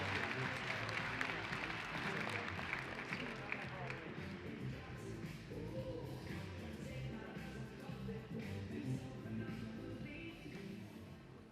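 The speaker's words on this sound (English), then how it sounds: "Another round of applause for the great work that we're doing for Golden Corral and what they do for our children." A convention audience at a DAV and Auxiliary business session applauds: steady, fairly distant clapping from a crowd that fades gradually, with a voice speaking over it.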